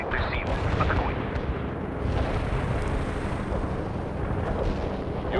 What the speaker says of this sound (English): You have incoming artillery again, Romanov. Move your units out of the impact area.